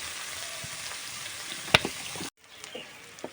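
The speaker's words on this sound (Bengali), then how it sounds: "এর মধ্যে আমি জল দিয়ে দেব পরিমাণ মতন" A frying pan of gadal leaf paste mixture being stirred, with soft sizzling and a sharp utensil scrape, then a brief cut before quieter stirring sounds resume.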